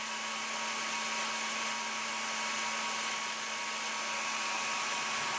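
A diode laser engraver running at 400 mm/s and 30% power gives off a steady, even whir with a constant tonal hum, close and uninterrupted, with no voices.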